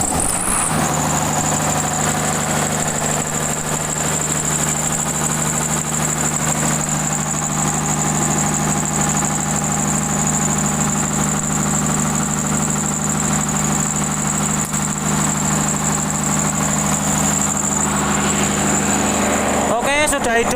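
Generator set (genset) engine running steadily at close range, a loud, constant mechanical drone with a sustained high whine that persists for about twenty seconds; talk is heard over the engine.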